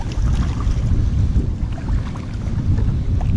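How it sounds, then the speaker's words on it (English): Wind buffeting a GoPro 5 microphone fitted with a Windslayer cover while fishing outdoors, a loud, continuous low rumble with rapid gusty fluctuations, and no voices. "that wind is getting up"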